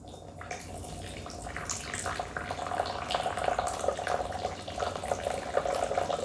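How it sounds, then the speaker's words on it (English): Hot Yunnan Moonlight White tea is poured from high into a vessel, making a steady, soft splashing stream that carries on quietly for several seconds. "Pour this nice and high."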